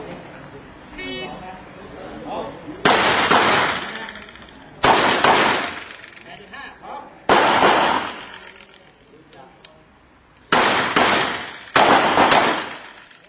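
Loud revolver gunshots crack in sharp bursts, about five spread over several seconds, with someone talking between them.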